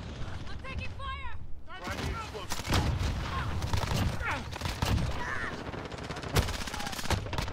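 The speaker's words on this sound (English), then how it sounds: "I'm taking fire." Rapid gunfire bursts and impacts from an online Call of Duty: Modern Warfare Hardpoint match, with SMG shots and explosions crowding a busy, loud mix of game effects.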